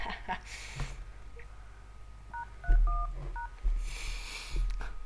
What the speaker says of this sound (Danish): Så ringer vi op til hende igen.